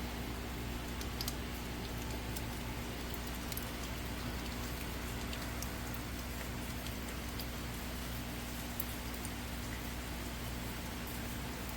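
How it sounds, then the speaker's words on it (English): Steady rain falling outdoors around a home garden with a rainwater harvesting system, a continuous even hiss with faint patter of drops throughout and no speech. "I love the rain though. I love the rain."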